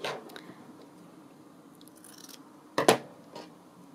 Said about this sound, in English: I've had to cut it.